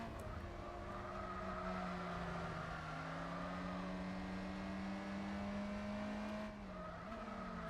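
Race car engine from the Gran Turismo 4 video game, a steady loud drone with rising and shifting pitch as it accelerates through gears, with a brief tyre skid near the end.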